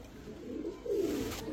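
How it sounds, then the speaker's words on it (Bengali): A racer pigeon hen softly cooing nearby, a low throaty coo swelling briefly over faint background hiss. "চকো রেসার মাদি কবুতর একদম নতুন কবুতর"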